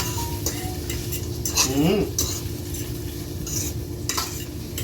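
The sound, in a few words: stirring in baking powder while cooking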